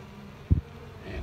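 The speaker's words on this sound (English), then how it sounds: "This is a worker bee." Honey bees hum softly inside an April hive as a worker bee emerges from her cell, a low steady buzz with one brief soft bump.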